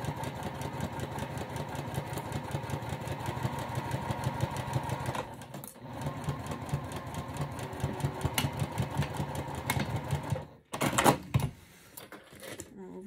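A sewing machine stitches a zipper pouch, its needle running in a fast, steady mechanical chatter. The run is broken by a brief pause and some handling near the end.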